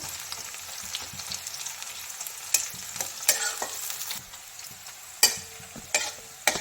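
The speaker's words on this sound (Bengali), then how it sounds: "পেঁয়াজটা একটু ভাজা ভাজা হয়ে এসছে" Chopped onion sizzles steadily in hot oil in a pan while a spoon stirs and scrapes it, with sharp clacks of the utensil against the pan now and then, while cooking begun bhorta (mashed eggplant); no talking.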